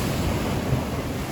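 Big storm waves roll onto the Yalta seafront in Crimea at night, a loud, unbroken surf roar mixed with gusting wind.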